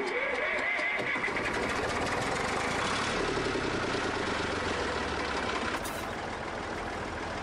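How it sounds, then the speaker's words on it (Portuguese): A Zetor 3011 tractor engine in Farming Simulator 17 cranks and catches, then settles into a steady, loud diesel rumble with a rough, throaty drone running throughout, a voice talking over it. "E ainda tem gente que fala que o ronco desses tratores não é massa"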